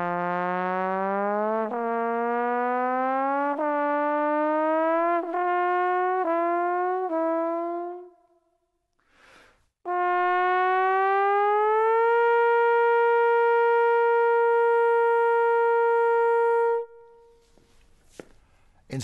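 Jazz trombone played without proper diaphragm support, sliding through a series of wavering, stepped glissandi, then a long sustained brassy note, with a short pause between and clicks at the end.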